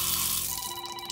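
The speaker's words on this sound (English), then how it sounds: "There's running water already here." Tap water runs steadily into a sink in a Ghana house tour at Trasacco, a continuous close hiss with faint tonal hum, no voices.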